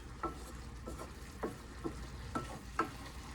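Shrimp cook in a pan with a quiet, low sizzle, while five or six soft clicking stirs land at a loose, irregular pace.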